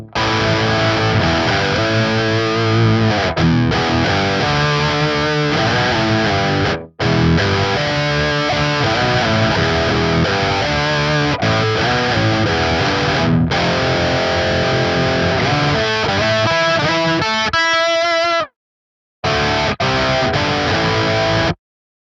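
Loud distorted electric guitar with a thick doubled, octave-like tone plays continuously, briefly cutting out twice.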